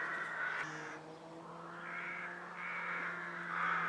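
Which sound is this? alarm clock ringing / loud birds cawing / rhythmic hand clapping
loud birds cawing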